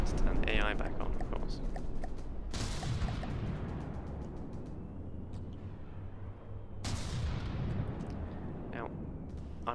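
A battleship in From The Depths fires weapon volleys, each shot a loud broadband blast with a long decaying roar, two big bursts about four seconds apart over a continuous rumble, with someone talking throughout.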